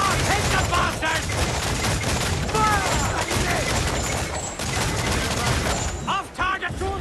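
Ship cannons fire broadside in the pirate video game Assassin's Creed 4: Black Flag, a dense, continuous barrage of booming shots and clattering mechanisms, with shouting voices over the gunfire.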